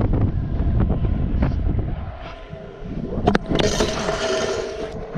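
Strong wind at Marsh Creek buffets the microphone with a steady low roar, gusting louder toward the end, with no voices.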